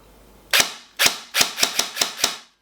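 An Ares SR25 (M110-style) electric airsoft sniper rifle fires on semi-auto: seven crisp, punchy snaps, the first three spaced out and the last four in quicker succession, close and loud with no talk.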